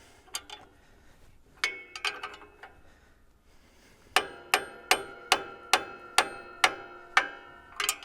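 Hammer tapping a metal part on a Ford tractor, sharp ringing metallic taps up close, a few scattered strikes at first and then a steady run of about eight evenly spaced blows, no voices.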